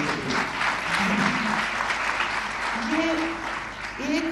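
Audience applause breaks out at a press conference and continues as a steady wash of clapping, with voices heard faintly over it.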